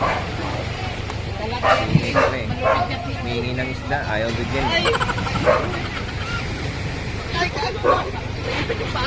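Several dogs bark and yip outdoors on a beach amid chatter and background bustle, the barks scattered and fairly close, with people talking throughout.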